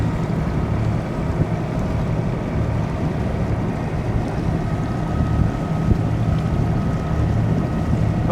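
Sailboat motoring under engine in light easterly wind past large ships and a vehicle carrier near a Queensland commercial port, a steady low engine drone with water and wind noise running throughout.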